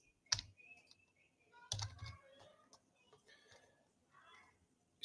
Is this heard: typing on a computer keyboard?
yes